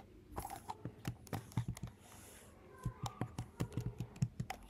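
Close, quick typing on a computer keyboard, with irregular clicky keystrokes in two bursts and a short pause between them.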